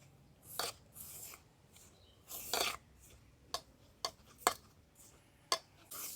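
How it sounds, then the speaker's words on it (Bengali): Dry dough of flour, salt, sugar and white oil is hand-mixed in a bowl for potato lachha paratha, heard as soft rubbing with several sharp scraping and clinking strokes at irregular intervals. "প্রথমে আমি এই শুকনো উপকরণগুলো খুব ভালো করে মেখে নেব।"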